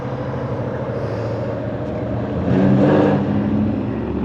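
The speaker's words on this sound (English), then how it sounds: "Here come the girls and lots more old cars coming past here." Old cars driving past on a seaside street at Great Yarmouth, a steady engine drone that swells as one vehicle passes close midway, moderate loudness with no talk.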